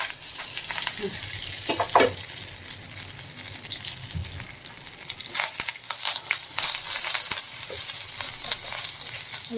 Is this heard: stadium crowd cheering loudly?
no